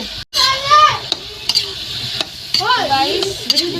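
Spices and turmeric fry with pumpkin in a village kitchen pan, a bright sizzling hiss under stirring scrapes, with a brief dropout near the start and background voices and clatter.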